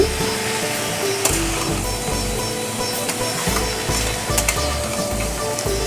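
Carrots frying in a pan for a chicken dish are stirred, a loud close sizzle over a low humming drone, with intermittent scraping and clinks of the utensil against the pan.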